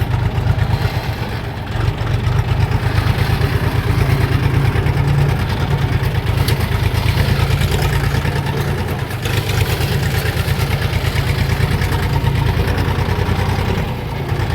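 Kentavr 244 tractor driving toward a field plot with a Lisicki 1.35 m rotary mower attached, a loud, steady diesel drone with a constant low throb throughout, no talk.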